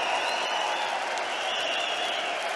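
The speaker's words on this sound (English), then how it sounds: "The crowd roaring him on" A darts crowd at a PDC European Tour match in Riesa roars and applauds Thomas Seyler, a continuous dense wash of clapping and crowd noise with no break.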